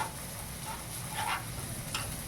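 Fish sizzling in a pan for a Malvani fish fry, a steady soft hiss of hot oil with faint crackles, fairly quiet and without talk.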